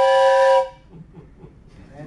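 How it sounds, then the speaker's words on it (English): A Tuscarora Legend Game Calls train whistle call gives one loud, steady, chord-like blast that holds for about half a second and then stops sharply, leaving only faint room noise behind it. "Everybody knows what the train whistle sounds like."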